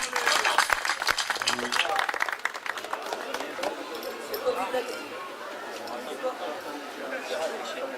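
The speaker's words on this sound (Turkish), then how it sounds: "Kuvvetli alkışlarınızla lütfen." A crowd claps at a village association's picnic award ceremony, loud and busy for the first couple of seconds, then thinning into scattered claps under crowd chatter and a voice.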